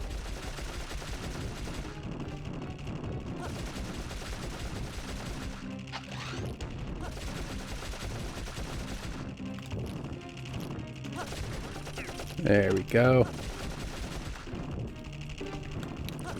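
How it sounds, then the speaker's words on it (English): Repeated cannon blasts from the video game Dark Cloud boom and crash amid dense, continuous game battle noise, with someone briefly speaking over it. "Cannon versus cannon."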